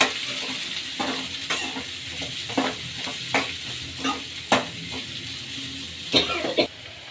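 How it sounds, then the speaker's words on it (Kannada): Onions frying in a pan for potato bhaji, a steady close sizzle with repeated sharp scraping stirs at irregular intervals and a faint cough partway through; no talking. "ಈಗ ಈರುಳ್ಳಿ ಸೇರಿಸ್ಕೊಳ್ಳೋಣ. ಚೆನ್ನಾಗಿ ಫ್ರೈ ಮಾಡ್ಕೊಳ್ಳೋಣ."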